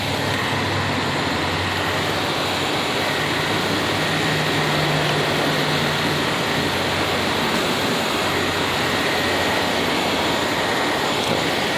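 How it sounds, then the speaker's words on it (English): A car engine idles with its AC compressor engaged while the system is recharged with low freon, giving a loud steady broadband whooshing drone with no pauses. "the compressor came on"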